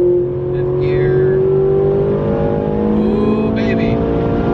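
A Ferrari 458 holds fifth gear at high speed, its engine a steady, loud, sustained drone from inside the car that climbs slightly in pitch, with a person talking over it.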